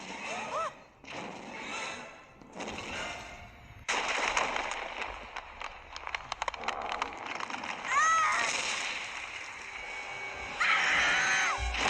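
Loud shrieking animal cries mixed with heavy thuds and crashing in an animated prehistoric scene, chaotic bursts rising and falling throughout.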